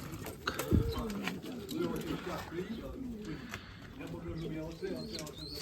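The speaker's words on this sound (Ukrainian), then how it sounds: "так що отакі от голуби" Soft coos of crested, shaggy-footed flying pigeons repeat in low, rolling phrases close by in a pigeon loft, mixed with background chatter and faint bird chirps.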